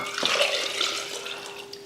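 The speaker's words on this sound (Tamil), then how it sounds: "முங்குற அளவுக்கு தண்ணி ஊற்றிடலாம்." Water poured into a pressure cooker holding boneless chicken and potatoes, a close, moderately loud gushing splash that fades off toward the end, with no voices.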